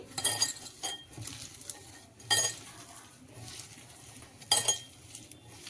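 Sliced onions for onion pakodi being mixed with salt by hand in a bowl make a few crisp, rustling bursts with light clinks. The sound is close and quiet, with soft pauses between the bursts.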